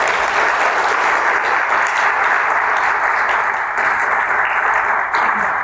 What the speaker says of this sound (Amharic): ለገዙን ከስተመሮች እስቲ ሳታቋርጡ አጨብጭቡልኝ።